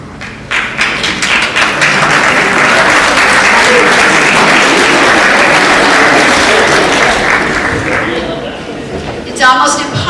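Sustained applause from a seated audience at a community event fills nearly the whole stretch, dense and steady at close range, fading slightly near the end as a voice starts to speak.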